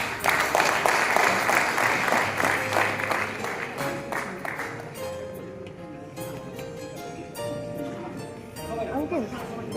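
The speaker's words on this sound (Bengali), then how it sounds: "করতালি ছেড়ে দিচ্ছি" Conference audience applauding in honour of Dr. Mrinal Sarkar, a dense steady clatter of many hands clapping that thins out midway, leaving scattered claps under background murmur and talk.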